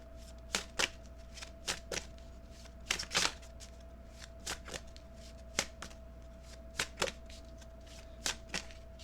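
Tarot cards are shuffled in quiet, irregular riffles and taps, close and soft over a faint steady background hum.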